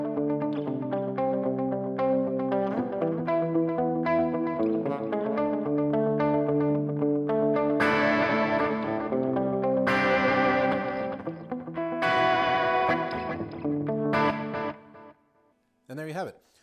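An electric guitar runs through a delay pedal with reverb, playing picked phrases and strummed chords whose notes repeat and smear into long, echoing tails before a brief pause and a final note.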